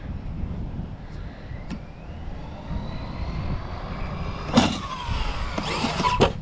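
An ARRMA Quake 223S RC stunt truck whines with its electric motor rising in pitch as throttle is applied during a backflip, with sharp clattering impacts toward the end.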